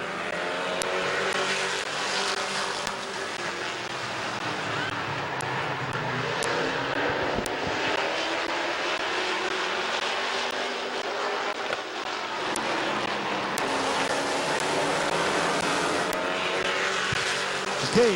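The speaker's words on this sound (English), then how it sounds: "Okay, that's lap number 1, and Kaylee Wood is our leader." Race cars lap Midvale Speedway in a continuous engine roar, loud and close, with pitches rising and falling as the pack passes and no talk over it.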